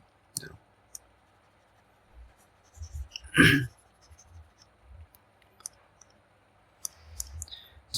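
During a chemistry lesson, a marker or chalk taps and scratches on a board in sparse, quiet clicks and short strokes, with a brief louder burst of voice in the middle.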